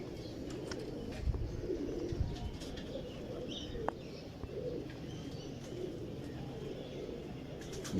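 Soft pigeon cooing close by, low murmuring calls repeating over a faint background with occasional light clicks and rustles.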